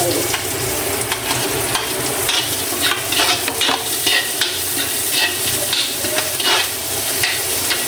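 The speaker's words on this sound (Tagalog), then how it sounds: "So, lagay na rin po natin ang ating onion." Onion frying and being stirred in a pan while cooking ginataang labong, a steady sizzle with repeated scraping stir strokes throughout, fairly loud and close with no talking.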